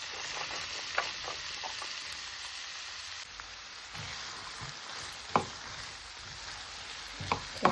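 Vegetables, including onion, sauté quietly in a pot for Jamaican-style saltfish seasoned rice, with a soft continuous sizzle broken by occasional clinks and stirring scrapes.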